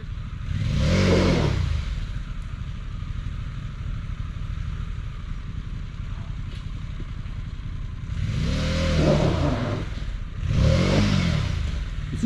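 A heavy Harley-Davidson Pan America motorcycle, engine rumbling steadily at close range, rising in three strong revving surges between lower chugging stretches, no voices.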